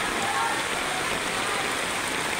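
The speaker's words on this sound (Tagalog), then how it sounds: "Lakas ng ulan." Heavy rain pours down in a dense, steady hiss, loud and close, with no break, on a flooded street in Manila.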